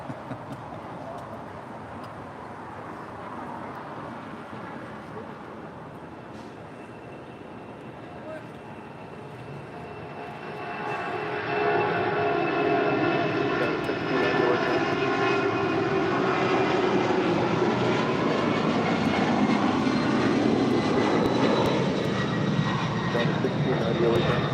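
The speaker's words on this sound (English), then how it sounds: "This is a former All Nippon Airways 767" A former All Nippon Airways Boeing 767 jet at LAX gives a steady engine roar that swells louder about halfway through and holds, with voices talking faintly underneath.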